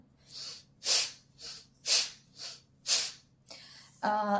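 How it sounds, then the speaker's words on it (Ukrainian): Five sharp, forceful nasal exhales of kapalabhati breathing come in a steady rhythm about half a second apart, close and loud, followed by a brief rustle. "друге це широке капалабхаті, це коли ми задіємо руки і розширюємо і стискаємо грудну клітину. При цьому акцентований видих"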